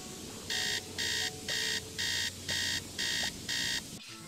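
An alarm clock in the Nancy Drew game Treasure in the Royal Tower beeps loudly in seven evenly spaced bursts, each about a third of a second long, over a faint background hum.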